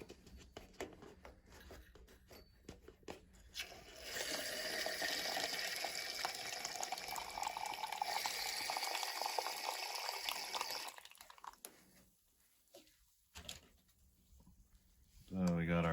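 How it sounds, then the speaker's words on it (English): Hot water drains from a natural gas water heater's tank drain valve into a cup, a steady broadband pour lasting several seconds before tapering into quieter trickles, with talk in the background. "we're going to drain some water out of the drain valve here into a cup and check the temperature"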